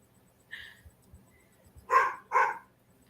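A dog held in a cage lets out a short whine, then two loud close barks, with quiet room sound between them.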